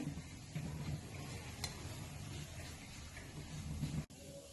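Grated sweet potato is sautéed in a pan, giving a soft, steady sizzle with faint scraping of stirring, fairly quiet and continuous, ending in a brief thump.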